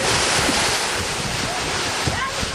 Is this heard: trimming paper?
no